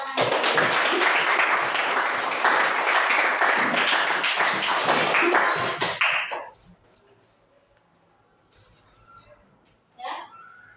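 A class of students claps together, dense and steady for about six seconds before stopping abruptly, leaving a quiet room with a faint voice afterward.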